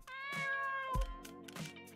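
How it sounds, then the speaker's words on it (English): Cartoon cat meows in the Dave the Diver video game, a few bright, tonal mews over steady game music, close and clear with no talking. "You can only feed the cat once per day."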